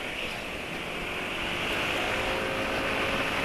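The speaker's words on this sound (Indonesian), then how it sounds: "Kalau NMAX penulis ini juga nggak mungkin betul-betul senyap karena ada suara rak gitu ya" A Yamaha NMAX scooter engine runs nearby in a steady idle with a low, rough rattle beneath a continuous hum. The level stays even for several seconds and swells slightly toward the end.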